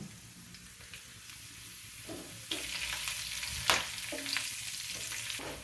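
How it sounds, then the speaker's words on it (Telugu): Curry leaves crackle in hot tempering oil with garlic and asafoetida, a continuous sizzle that flares up sharply after a couple of seconds and spits in brief bursts; close, with no voices. "ఒక రెమ్మ కరివేపాకు వేస్తున్నాను"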